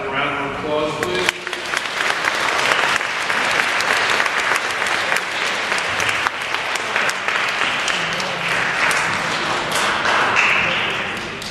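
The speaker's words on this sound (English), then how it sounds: "Let's have a round of applause, please." A school academic awards ceremony audience applauds for a long stretch, dense clapping staying loud and steady throughout, with a voice briefly heard at the start.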